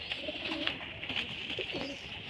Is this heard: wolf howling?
no